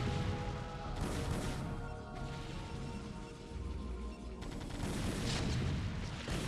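Heavy artillery booms from Terran siege tanks in StarCraft, a dense, continuous barrage of loud blasts and crashes with overlapping explosions throughout, thick battle noise filling the whole stretch.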